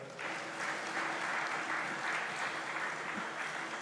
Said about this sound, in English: A better round of applause for them